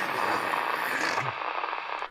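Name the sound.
police scanner radio static, loud white noise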